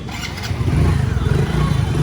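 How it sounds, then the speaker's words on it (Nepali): An old motorcycle fired up on its electric self-starter settles into a loud, close, pulsing idle with a low throb that stays steady throughout. "झन् पुरानो ओल्ड बाइकमा सेल्फ छ यार"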